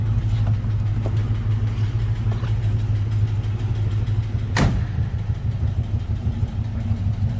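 A 1964 Pontiac GTO's V8 engine idles with a deep, steady low rumble, close and continuous, with a brief sharp click partway through.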